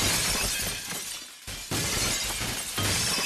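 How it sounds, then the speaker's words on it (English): Glass shatters again and again in the Happy Wheels video game, a loud, dense crashing that keeps going, with one short break and then more breaking. "I'm just gonna break glass?"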